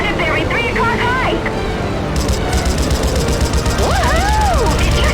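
Explosions and gunfire ring out during an aerial dogfight in a video game. The sound is dense and loud, with bursts of fire and whining engine tones, and it keeps going the whole time.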